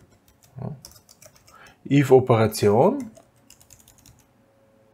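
Someone types code on a computer keyboard, with soft keystroke clicks near the start and end and a short stretch of speech in between.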